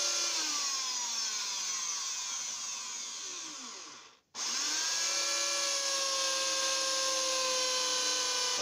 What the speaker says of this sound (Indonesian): Untuk yang pertama gunakan mata bor yang kecil dulu